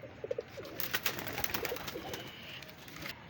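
A kept pigeon named Yakut gives a few close, low throaty coos, with soft rustling and background noise around it.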